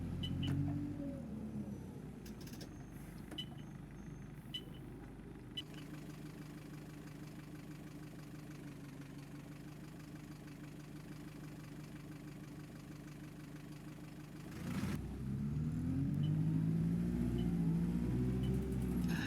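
A London C200 bus engine with a ZF gearbox in the OMSI 2 driving simulator idles with a steady low rumble for a long stretch, then revs up near the end into a louder, rising drone.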